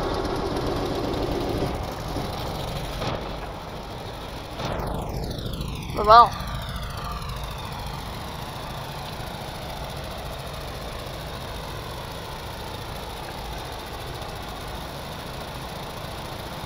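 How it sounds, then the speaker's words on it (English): A boat engine in the game Stormworks cranks over and settles into a steady drone of idling, with a brief louder burst as it catches, while a person talks over it. "Engine starter."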